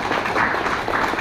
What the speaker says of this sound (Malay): marilah kita memberi tepukan yang gemuruh pada beliau